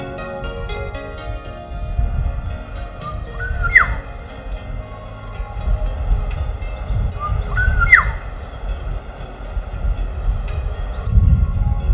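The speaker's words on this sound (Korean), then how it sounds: "새들 중에 가장 아름다운 목소리를 가진 꾀꼬리" A black-naped oriole's fluting, liquid song rises twice with clear whistled phrases over a dense rumble of background noise and scattered chirps.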